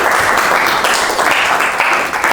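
Classroom of students applauding a classmate after a presentation, a dense continuous wash of clapping, loud and close, with no talk over it.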